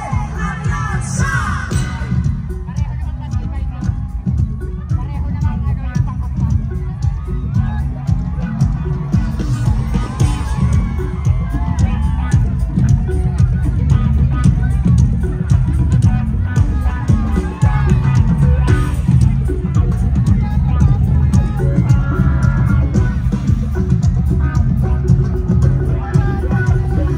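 A large crowd roars and yells at a Philippine political rally for a senatorial candidate, a dense sustained wall of cheering and hubbub that keeps going for nearly half a minute with voices shouting through it.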